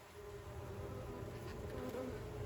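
Steady buzzing of many honeybees close by around an open hive, a dense continuous drone with individual bees passing near.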